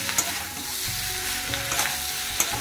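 Ginger and garlic frying in a pan, a steady close sizzle with occasional louder spits and stirring scrapes, no speech.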